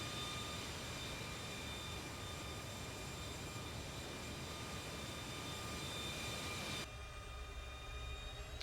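An AV-8B Harrier jet in Microsoft Flight Simulator taxis with a steady, loud engine roar and a high turbine whine, and the sound drops suddenly to a quieter hum near the end.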